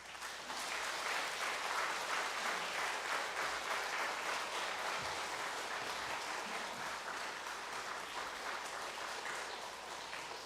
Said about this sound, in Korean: 격려와 축복의 박수를 해주시면 좋겠습니다